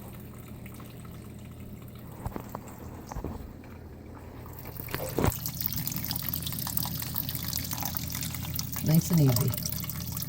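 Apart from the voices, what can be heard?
water pouring into an aquarium tank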